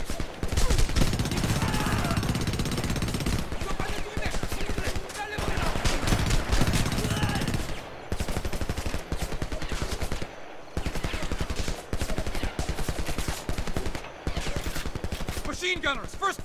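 Sustained machine gun fire and rapid gunshots in the Homefront video game, loud and dense, mixed with shouted voices and battle noise, with a few brief gaps.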